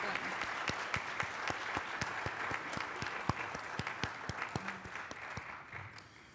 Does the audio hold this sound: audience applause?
yes